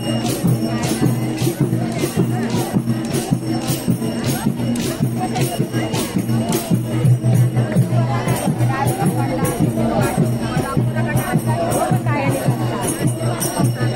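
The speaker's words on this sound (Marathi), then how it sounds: "गर्दी वाढत चाललेली आहे जोरात अगदी या उत्सवात." A dense festival crowd at the Shimga celebration in a Konkan village near Rajapur, a loud continuous babble of many voices with rhythmic drumbeats and clanking underneath, someone speaking close over the din.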